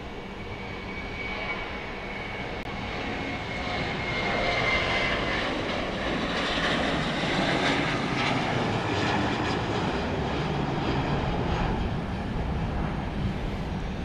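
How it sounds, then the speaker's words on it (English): A Southwest Airlines jet rolls down runway 13 left at Dallas Love Field at night, its engines a loud, steady roar that swells after a few seconds and holds, heard alone without voices. "Southwest Flight 4229 is going to Nashville, and it is now rolling down 13 left."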